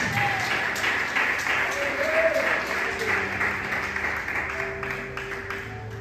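A church congregation applauds steadily throughout a worship service, a dense wash of clapping with some voices mixed underneath.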